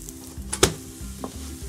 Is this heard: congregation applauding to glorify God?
no